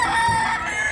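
A rooster from a Bacolod mountain flock, recorded at a sale in Mantalungon, Cebu, gives a single short, loud, close cluck lasting under a second.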